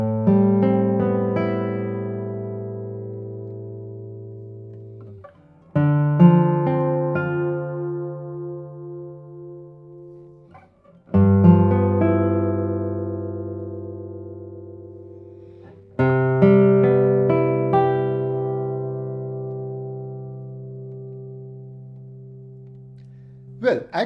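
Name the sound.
Friederich classical guitar being played, long sustain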